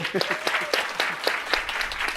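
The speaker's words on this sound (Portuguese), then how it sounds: "Mais uma salva de palmas para o Luiz Moreira." An audience at a pharmacy meeting claps in a short burst of applause that is dense and fairly close, with a voice briefly heard over it.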